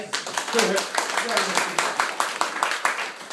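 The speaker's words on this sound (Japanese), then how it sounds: "拍手じゃ。" Audience at a school lecture by the Bangladesh ambassador claps, distinct individual hand claps in a quick uneven rhythm, close and fairly loud, filling the short stretch.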